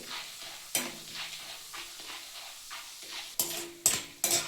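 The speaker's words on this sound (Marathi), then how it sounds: "डाळ मंद आचेवर तळून घेऊया, करपू नये म्हणून। तेल तापलेलं आहे।" Dal fries in hot oil over a low flame for kothimbir chivda, a soft steady sizzle punctuated by sharp spoon scrapes and clinks against the pan, several in quick succession near the end.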